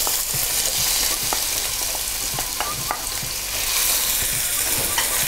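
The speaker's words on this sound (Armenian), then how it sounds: "Բանջարեղենը կտրում ենք քառակուսիներով և հերթականությամբ տապակում ենք։" Diced onion fries in a pan with a steady, loud sizzle that runs throughout, broken by occasional scraping and stirring clicks close up, with no talking.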